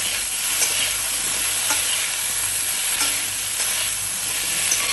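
Pointed gourd halves sizzling in a hot kadai with a little oil while cooking a potato and pointed gourd gravy: a steady, close hiss of frying with faint stirring ticks and no talk.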